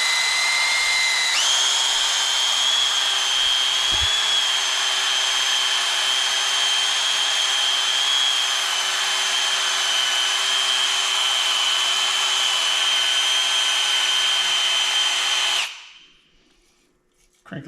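A power sander or drill-driven abrasive wheel grinds rust off an old part from a vehicle parked nearly 20 years, a steady, loud whine running continuously for about fifteen seconds before cutting off abruptly, with a voice briefly audible.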